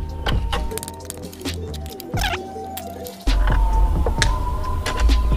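Metallic wrench and tool clicks and scraping on the front axle of a Jupiter Z1 motorcycle, close and intermittent, with a sudden rise to a louder steady background partway through.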